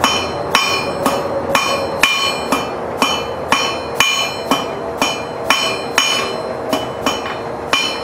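Hammer blows on hot steel over an anvil as a blacksmith forges S-hooks in a batch, a steady series of about fourteen sharp, ringing strikes at an even pace, close and loud with no talk.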